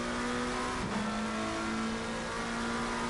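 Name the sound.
GT3 race car engines in Assetto Corsa Competizione video game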